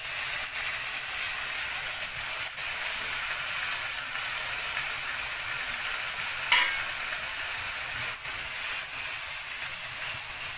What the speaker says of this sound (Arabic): اللحمة بتاعتنا نشوحها شوية في المكونات دي.